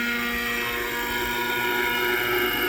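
A 1980s-era German nitro RC helicopter engine runs at a steady high-pitched whine with strong harmonic buzz and rotor drone, loud and continuous throughout with no pauses.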